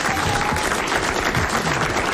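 Sustained applause from a studio radio audience, a dense steady wash of clapping filling the whole stretch without pause.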